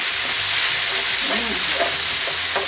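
Chicken fried rice frying and being stirred in a pan over medium-high heat, a loud, steady sizzle with soft scraping stirs woven through, no talk.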